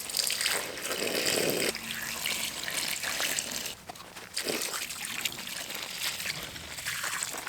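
White distilled vinegar poured over a flywheel in a container, a steady close trickle and splash of liquid that briefly stops and then resumes, loud and alone.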